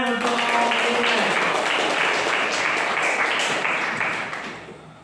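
Classroom applause from students at a junior high school in Indonesia, a dense burst of many hands clapping together for a classmate, steady for several seconds before tapering off, with a voice heard briefly at the start.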